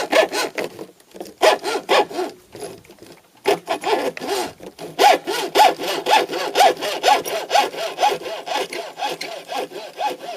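A hand saw cuts through a thick fishing rod, giving close, rhythmic back-and-forth rasping strokes that pause briefly and then resume in a steady, regular series.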